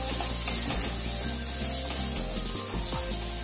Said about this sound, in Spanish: Y esto lo vamos a sofreír.